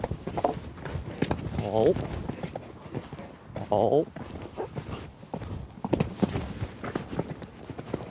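Horse hooves clip-clop on the ground during a show jumping round, with a few louder thuds of landings and strides, while someone talks over them throughout.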